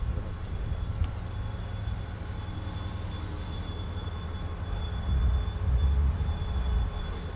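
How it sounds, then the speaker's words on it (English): A train rolls past close by in a steady, loud rumble of railcars and wheels, with faint metallic squeals riding above it and the noise swelling further toward the end. "The train's coming."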